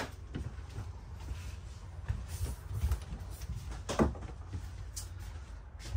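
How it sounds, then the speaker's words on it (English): A glass shower door in a 2023 Keystone Cougar 316RSL RV is shut and latched into place, a faint, quiet clunk and click against a low room background. "this is a glass door, so you always want to make sure that this is locked into place like that"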